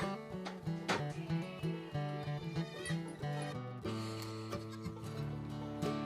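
Goats, including newborn kids, bleat in a farmyard, with repeated close, wavering calls that overlap in an irregular rhythm, loud and clear.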